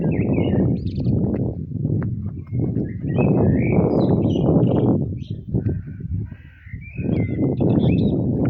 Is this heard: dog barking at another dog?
no